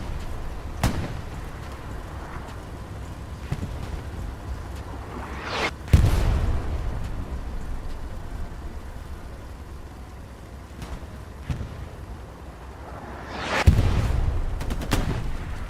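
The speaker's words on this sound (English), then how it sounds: "Avoiding that artillery." Artillery and gunfire in the WWII shooter Hell Let Loose during a competitive match on the Sainte-Marie-du-Mont map: scattered distant shots and booms, with two heavier, louder impacts rumbling out over a low battlefield hum.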